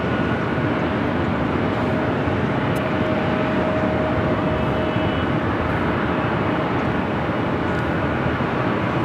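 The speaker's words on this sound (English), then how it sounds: "This is flight 457 heading back to Frankfurt. It's a 9-year-old, a 747-8 Intercontinental" Nine-year-old Lufthansa Boeing 747-8 Intercontinental on flight 457 departing Los Angeles LAX for Frankfurt, a loud, steady broadband jet roar sustained throughout with no talk.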